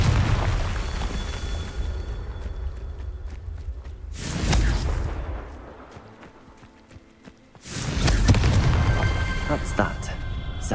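Confringo spells blast in the video game Hogwarts Legacy: two loud, booming explosions a few seconds apart, each bursting suddenly and rumbling on, with clattering game sounds between them.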